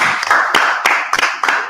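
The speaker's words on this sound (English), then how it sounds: "Clap" Hands clap in a quick series of about five sharp, close claps, slightly uneven in rhythm, with no speech.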